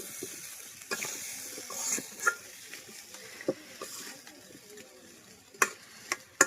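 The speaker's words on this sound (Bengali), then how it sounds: "পেঁয়াজ আলুগুলো দিয়ে কিন্তু হচ্ছে ভালোভাবে নেড়ে ছেড়ে মিশিয়ে নিব" Onions and potatoes being stirred in a cooking pan give a faint sizzle broken by irregular scraping knocks and clicks from the utensil.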